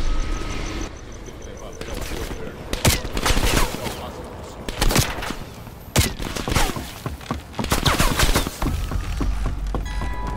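Video game shootout in Call of Duty: Black Ops Cold War: rapid bursts of automatic gunfire mixed with single sharp shots and heavy thuds, loud and continuous with brief pauses.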